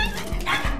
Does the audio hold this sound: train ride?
no